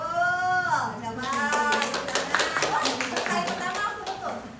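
Hand claps from a group during a clap-counting exercise at a school training session, a few sharp claps among a speaking voice, with people answering aloud in the background.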